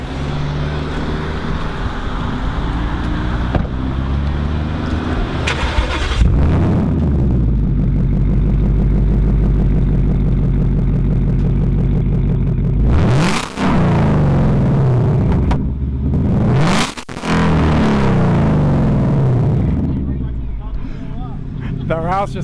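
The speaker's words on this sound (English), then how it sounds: "let's hear the Roush" A 2018 Mustang Roush V8 revs loud and close, deep rumbling engine roar rising and falling through several throttle blips with sharp peaks, people talking over it.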